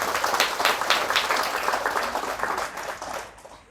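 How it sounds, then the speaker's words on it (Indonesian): An audience at an evening Isra' Mi'raj religious gathering claps in a loud, dense round of applause that swells early and then gradually fades. "Tepuk tangan semuanya buat anak-anak kita ini."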